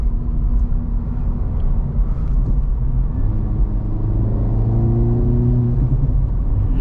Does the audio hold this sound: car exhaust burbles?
yes